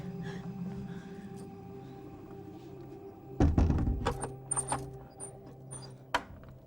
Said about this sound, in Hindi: दरवाजा खोल